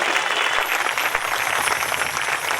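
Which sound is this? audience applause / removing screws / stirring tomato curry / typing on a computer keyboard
audience applause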